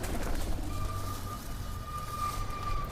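Pigeons cooing nearby, a low soft repeated coo over steady background hum and a faint distant siren-like tone.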